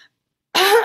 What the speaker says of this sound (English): I'm just coughing a little bit